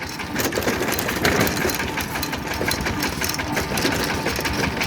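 A walking tractor engine runs steadily close by, with a dense, rapid rattling chug and mechanical clatter that holds at an even, loud level throughout, with no one talking.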